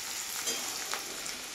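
Chicken sizzles and fries in a pan over a coal fire, with a steady crackling hiss and light scraping as it is stirred.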